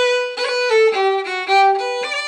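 A fiddle plays a short Celtic melodic phrase of several bowed notes, clear and close, with no other sounds.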